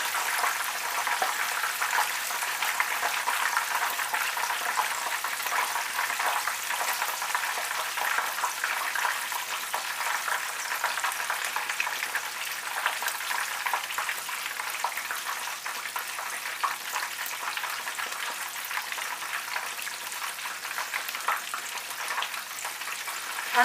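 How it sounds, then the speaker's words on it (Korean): A breaded chicken cutlet deep-fries in hot oil, giving a continuous dense sizzle and crackle that holds steady and close throughout, with no voices. "그럼 뒤집어서 다시 튀기겠습니다."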